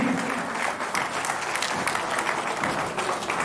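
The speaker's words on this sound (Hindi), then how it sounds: "एक बार जोरदार तालियों से स्वागत करें प्लीज।" A crowd claps loudly and steadily to welcome soldiers arriving on a cycle rally reception in Lalitpur, continuous dense applause with no clear speech.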